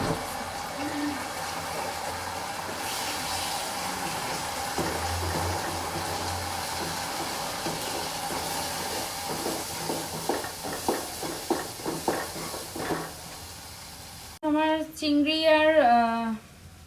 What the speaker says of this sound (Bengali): এক সাইডে করে হচ্ছে ডিমটাকেও ঝুড়ি ভাজা করে নিচ্ছি